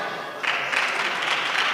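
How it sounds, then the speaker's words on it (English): Short burst of audience applause at a community honoring event for prominent Sikhs in the USA, clapping swelling in abruptly after a moment and holding steady and fairly close. "So give her a round of applause."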